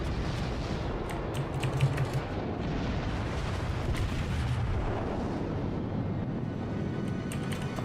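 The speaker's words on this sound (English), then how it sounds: "Oh, he fired HE." Naval guns firing in World of Warships, a dense rumbling battle din with booming shots and crackling impacts over a continuous low roar.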